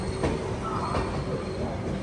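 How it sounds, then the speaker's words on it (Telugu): Sarkar Express passenger train rushing past at close range, a loud continuous roar of wheels and rushing air with faint rhythmic clatter throughout. "సర్కార్ ఎక్స్ప్రెస్ ఇప్పుడు పాండిచ్చేరి చెంగల్పట్టు నుంచి కాకినాడ పోర్ట్ అయితే వెళ్తుంది సర్కార్ ఎక్స్ప్రెస్"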